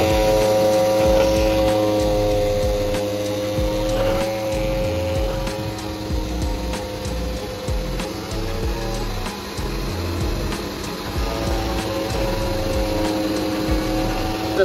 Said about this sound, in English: Now the vacuum pump has been started,